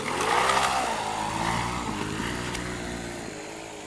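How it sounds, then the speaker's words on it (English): Small friction-drive motor on a bicycle runs steadily with a buzzing, motorcycle-like drone, loud and close, easing slightly after an early rise with no talk. "Here, I'll show you how I start the bike."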